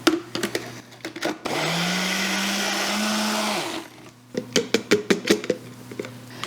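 A blender whirs loudly for about two seconds, mixing a beef and gelatin noodle mixture, its motor pitch holding steady before cutting off, with knocks and taps around it before and after.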